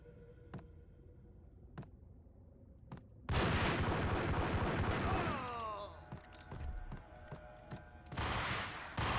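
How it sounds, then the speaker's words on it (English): Gunfire in the Max Payne video game, starting with a few sparse single shots, then a loud burst of rapid overlapping shots followed by scattered cracks and another intense volley near the end. "He's trying to shoot me through the floor."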